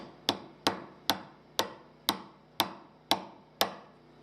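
A part gets smacked into place on a workbench with eight sharp, evenly spaced knocks, each ringing briefly before the next, close and loud with no voices.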